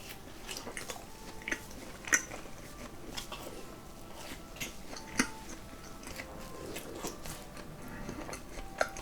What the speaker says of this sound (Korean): 설탕 묻은 빵 바로 한번 먹어보도록 하겠네